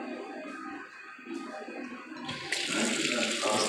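Water runs from a tap in a steady close rush that grows louder and brighter partway through, with faint background sounds and no talk over it.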